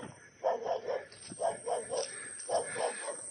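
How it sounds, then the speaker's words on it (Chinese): A dog barks at a remote house deep in the Guizhou mountains, giving several short, faint, distant barks in quick clusters over steady outdoor background noise. "听到一个狗叫"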